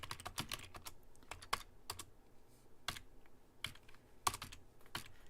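Keys clack on a computer keyboard in short irregular bursts of taps with pauses between, quiet and close, with no voices over them.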